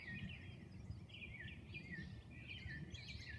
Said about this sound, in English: There's lots and lots of Tweety birds still in the garden,